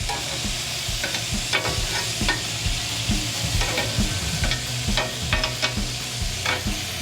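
Food sizzles steadily in a hot pan on a grill, with crackling and repeated scraping, stirring knocks from a utensil, close and moderately loud, and no talking.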